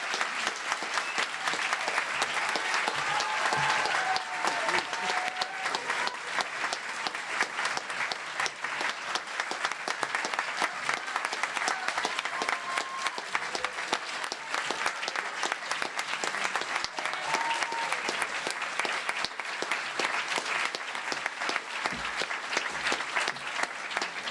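Sustained audience applause fills a hall at a community awards ceremony, a dense, even wash of many hands clapping that carries on for a long stretch at moderate loudness with faint voices mixed in.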